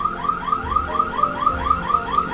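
A car alarm cycles through a repeating warbling whoop, a steady rising-and-falling siren pattern about four cycles per second, fairly loud and alone without talk.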